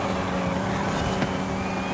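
A Nissan R390 race car in Forza Horizon 5 roars with a steady, loud, close engine drone throughout, with no talking over it.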